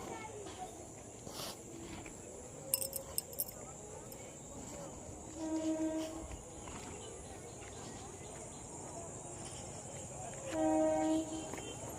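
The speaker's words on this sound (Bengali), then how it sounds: "এই যে ডাউন ট্রেনটার সাউন্ড দিচ্ছে" A down train approaches near a railway station with a low, distant rumble and two short tonal horn blasts several seconds apart. People talk over the sound.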